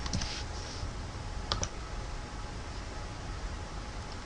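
Someone types on a computer keyboard with a few faint, quick clusters of key clicks, at the start and again midway, over a soft hiss.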